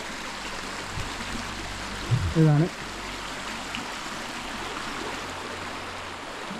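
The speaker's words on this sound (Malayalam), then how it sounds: "നല്ല ഭംഗിയുള്ളൊരു തോട് പോകുന്നുണ്ട് അല്ലേ" A small stream flows beside a rice field at harvest time, making a steady, even rushing wash throughout. A voice speaks briefly partway through.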